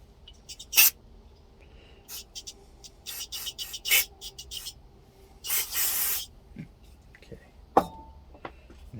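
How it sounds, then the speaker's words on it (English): Aerosol carburetor or brake cleaner sprayed on a seized part, several short hissing bursts and one longer blast, close, with quiet gaps between them. "we're gonna hit it with some carburetor cleaner or brake cleaner, either way"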